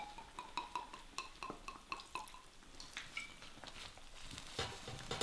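Steak Diane sauce with cognac flambéing in a pan gives a quiet, steady sizzle with crackles and scattered clinks of utensils against the pan.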